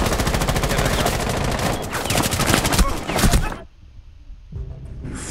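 Sustained rapid automatic gunfire in the video game Rainbow Six Siege, with shots coming through holes in the floor or ceiling. The fire is loud and dense with bursts overlapping, then breaks off into near silence before a few quieter shots return.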